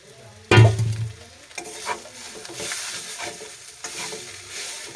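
A prepared vegetable filling is dropped into a hot wok with a sudden loud thump and hiss, then keeps sizzling and scraping as it is stirred and fried, close and continuous.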